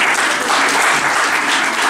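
Loud, steady applause from a live audience at a Sunday children's storytelling show, dense clapping sustained evenly throughout with no talk over it.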